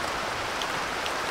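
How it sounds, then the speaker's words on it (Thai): Light rain falls steadily outdoors, a continuous soft hiss of drops pattering on surfaces without pauses or other sounds. "ฝนตกดีนะไม่ตกแรง"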